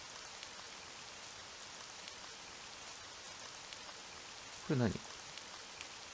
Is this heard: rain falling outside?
yes